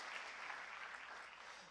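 Applause from a church congregation praising God during a sermon, a steady dense wash of clapping heard from a distance, quiet and continuous with no voices over it.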